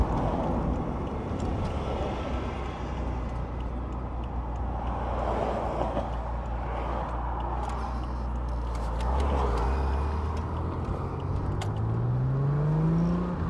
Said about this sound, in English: It's got these little bit of a gargle that comes down off throttle